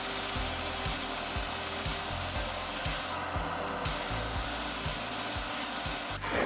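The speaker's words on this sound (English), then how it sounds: "I couldn't fit the puzzle on my bandsaw, so I had to sand everything down on my belt sander" A belt sander grinds down the sides of a handmade puzzle cube, a steady loud whir with a regular low thump from the belt, heard alone and close up.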